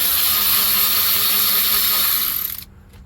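A stubby 10 mm wrench works a bolt during engine repairs, giving a steady fast ratcheting whir that runs loud and close for over two seconds before stopping abruptly.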